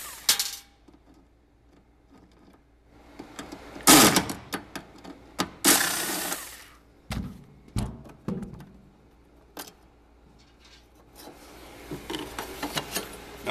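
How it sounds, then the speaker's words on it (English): Screws being removed from the lower kick panel during a running board installation, with scattered clicks, rubbing and brief ratcheting or drill-like bursts in a quiet space, alone without speech. "Now we're going to remove the bottom screws that hold the kick panel."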